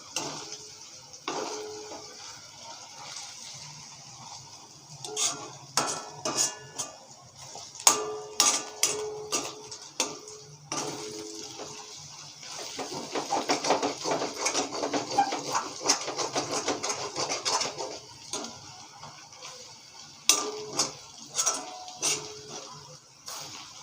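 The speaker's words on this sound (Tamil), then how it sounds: "இந்த எண்ணெயில் நல்லா கருவாடு வந்து படப்படான்னு பொரியுது." Dry fish (vaala karuvadu) frying in oil crackles and pops in irregular bursts, faint sharp snaps scattered over a quiet background, with light utensil ticks and no talking.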